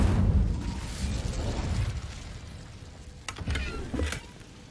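A fire spell cast in the video game Hogwarts Legacy bursts out with a whooshing, booming flare, followed by a fainter rumble and a couple of sharper pops later on, with no speech.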